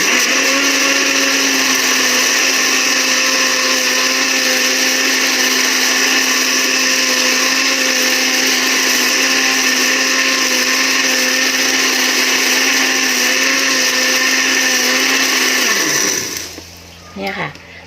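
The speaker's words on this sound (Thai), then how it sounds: "แล้วก็ปั่นอีกครั้งนึง" A blender whirs steadily, loud and close, as it blends a plant fertilizer mixture with a whole egg added, a constant motor drone that runs throughout and then cuts off abruptly near the end.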